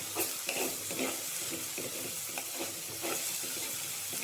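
Onions sizzling and frying in a pan for a cucumber and dal curry, a continuous close hiss with occasional stirring scrapes and no talking.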